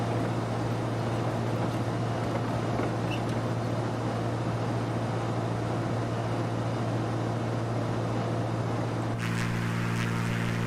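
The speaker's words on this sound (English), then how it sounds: "Hopefully you can hear me okay over the engines." Aircraft engines in a flight simulator game on a UK VFR tour hold a constant, loud droning roar with a steady low hum beneath it, the tone shifting slightly near the end.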